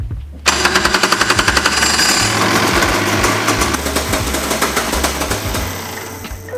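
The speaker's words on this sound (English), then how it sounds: "Now that the new battery is installed, we can power on the Go-kart." A go-kart with a newly replaced battery switches on and starts running abruptly, settling into a loud, rapid, steady mechanical chatter with a low pulsing drone underneath, close by and alone.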